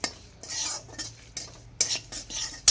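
Dry red chillies with whole cumin and coriander seeds stirred in a wok, giving bursts of metallic scraping and rattling with brief pauses and a faint sizzle, close and unvoiced.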